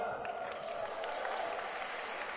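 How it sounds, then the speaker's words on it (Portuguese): A congress audience at a 2022 happiness talk clapping, a fairly soft, continuous patter of many hands heard from a distance with a faint murmur of voices mixed in. "Salve de palmas."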